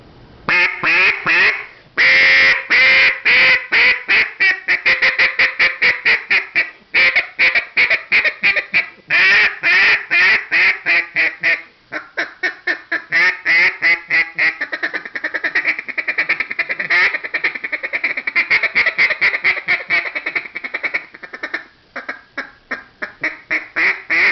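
Double reed duck call blown in a long run of loud, raspy quacks, fast repeated bursts with a few longer drawn-out calls, close and alone with no talking.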